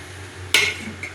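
A spoon or spatula clanks against a pan while chilli parotta is tossed with chopped coriander leaves: one sharp metallic scrape and clatter, then a few softer clinks, close by and without talk.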